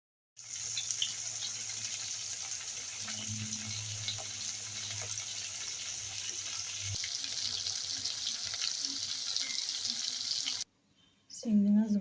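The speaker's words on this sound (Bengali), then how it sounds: "চিংড়ি মাছ ভাজা হয়ে গেছে" Big prawns fry in hot oil with a steady, even hiss that runs close and unbroken for about ten seconds, then cuts off abruptly, followed by a brief clatter at the end.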